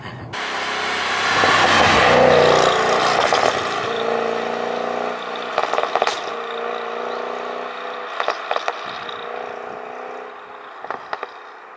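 Tuned Audi S8 Plus with a 720 bhp engine, one of 75 in the UK, rumbles loudly and steadily, then its exhaust lets out a series of sharp pops and bangs like gunshots that crackle intermittently as the engine settles.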